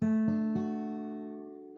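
Guitar strums three major triads on the bottom three strings in first position, each chord struck once in a steady sequence and left ringing, the last fading out; no voices.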